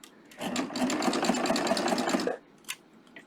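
A sewing machine fitted with a beading foot stitches fabric in a steady, fast mechanical chatter for about two seconds, then stops, leaving a brief click.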